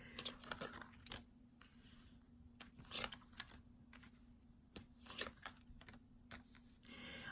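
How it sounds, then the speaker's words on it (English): Romance Angels oracle cards being shuffled and pulled: faint, quiet clicks and light papery flicks in irregular bursts, up close in a hushed room with no voices. "Now I'm going to pull out cards from the Romance Angels Oracle cards"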